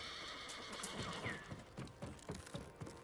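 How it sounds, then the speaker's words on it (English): In Ghost of Tsushima, a horse gives a shrill whinny up close, then its hooves clip-clop in a steady rhythm as it comes near, over a faint ambient backdrop. "My horse is here."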